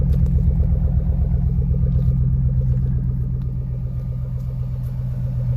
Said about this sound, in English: It's a little bit of a smoky cold start.